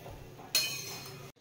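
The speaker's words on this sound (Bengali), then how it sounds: "এবার ভালো করে মিশিয়ে নেব।" A single clink of a spoon against a cooking pot while panch mishali dal, a five-lentil dal, is stirred, then fading into quiet kitchen noise.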